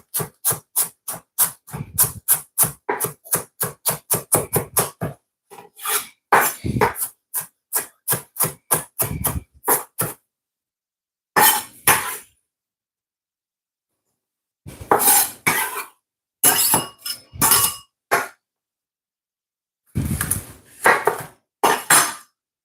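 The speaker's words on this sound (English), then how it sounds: "Half of red onion cut very fine as possible." A knife chopping half a red onion very finely on a board, a fast run of crisp, evenly spaced cuts up close, then shorter bursts of chopping separated by pauses.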